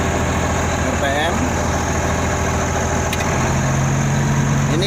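Komatsu D85-3 bulldozer engine idling in economy mode, a loud, steady diesel drone with a constant hum and no change in pitch, while someone talks over it.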